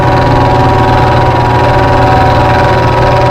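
Milling machine spindle spinning before a cut, a loud steady mechanical hum with an even whirring drone and no pauses, no talking.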